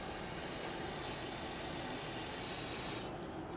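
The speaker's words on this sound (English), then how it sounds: "So I'll take some brake clean, parts cleaner," Brake cleaner sprays steadily onto a brake caliper, a faint continuous aerosol hiss lasting a few seconds before cutting off.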